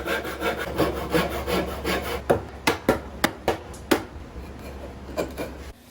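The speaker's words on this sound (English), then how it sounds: "I'm just gonna pare it smooth with the chisel" A chisel pares a wooden half-lap joint smooth for a DIY fish pond, with scraping strokes followed by a run of sharp, separate shaving rasps close by.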